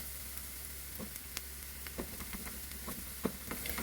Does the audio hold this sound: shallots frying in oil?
yes